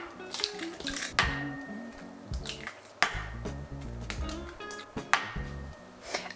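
Whole eggs cracked and dropped into a bowl of sugar for chocolate brownie batter, with a few sharp taps and wet plops against kitchen clatter, close and fairly quiet.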